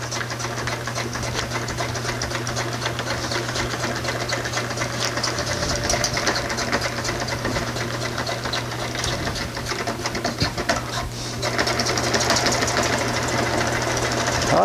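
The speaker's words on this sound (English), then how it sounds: "All right, let's try sewing this." Sewing machine stitching a plastic fish bag, a continuous loud rattling hum with rapid mechanical knocking that runs steadily throughout, briefly easing near the end before resuming, with no talking.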